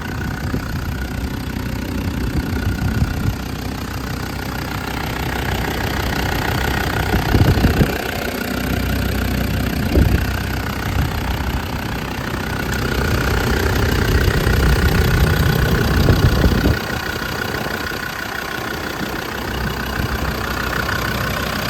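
Land Rover Discovery engine idling, picked up close inside the open engine bay: a steady, loud low-mid rumble with a continuous mechanical clatter, running alone for about twenty seconds with slight surges in level.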